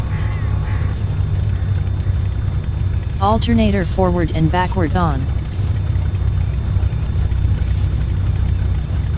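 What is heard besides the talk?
aircraft engines running after start-up, from video game FSX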